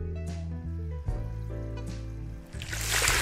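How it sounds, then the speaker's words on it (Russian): Water pouring into an aquarium in the simulation game Aquarist, a steady rushing fill that swells into a bright splashing gush by the end, with tonal game music beneath it. "Заполните весь аквариум водой"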